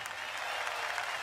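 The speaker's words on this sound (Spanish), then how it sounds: "¿Y habrá un aplauso de pie para pedirle otra?" Concert audience at the Cosquín 2022 festival applauding steadily, a dense wash of clapping from a large crowd, fairly distant and even throughout.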